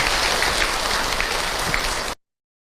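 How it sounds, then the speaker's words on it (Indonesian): Audience applause after a talk, a dense, steady wash of many hands clapping at close range, continuing evenly for about two seconds before cutting off abruptly. "Sekali lagi tepuk tangan Ibu untuk AA Hilman."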